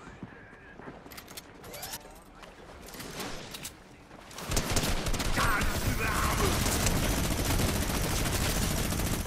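Rapid, dense gunfire in a shooter video game, building from scattered shots into a loud, continuous barrage of blasts in the second half, with a voice talking faintly underneath.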